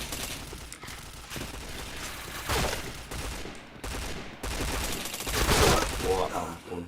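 Rapid bursts of gunfire in a shooter video game, dense volleys and single shots firing almost continuously and loudly, with a voice talking over parts of the action.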